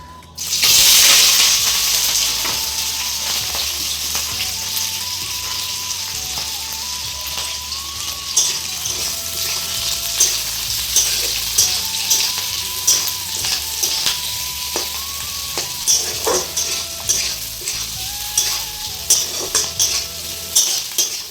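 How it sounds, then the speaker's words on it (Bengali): Onions and chilies fry in hot oil with a continuous, fairly loud sizzle, broken by regular stirring scrapes and utensil clinks, while background music plays throughout. "তেল গরম হয়ে গেছে, এবার পেঁয়াজ আর লঙ্কাটা দিয়ে দেবো, ভেজে নেব।"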